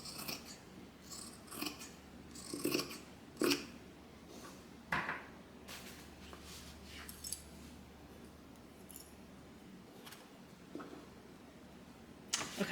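Scissors snip through excess fabric on a handmade zippered bag, a string of sharp, close crisp cuts coming in irregular bursts with brief pauses between.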